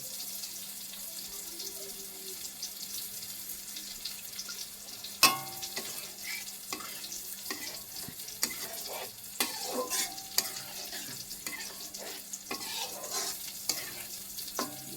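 A pan of food frying with a low sizzle while a spoon stirs through it, close and fairly quiet, with scattered clinks and scrapes against the pan and one sharper knock.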